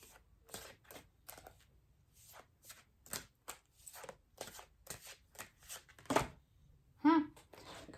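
Large tarot cards are shuffled in a series of quick papery riffles and slaps, irregular bursts close by, with a louder flurry near the end.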